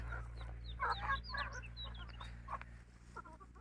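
Several free-range village chickens cluck in short, overlapping bursts, steady but not loud, with a low constant hum running underneath.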